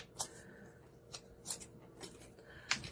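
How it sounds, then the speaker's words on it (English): Scissors snip through a small scrap of Calypso Coral cardstock paper in a handful of short, sharp, separate cuts, close and quiet against a soft background hiss. "And we'll just trim off a little piece of it."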